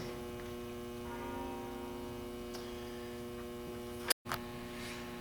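A metal lathe motor runs with a steady electrical hum and whine, faint and continuous, interrupted by a brief sharp click and dropout near the end, with no talk.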